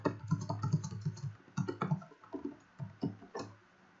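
Rapid clicking of computer keys typed in quick bursts and short pauses, close and fairly clear, as text is written into a forum post, with no voices.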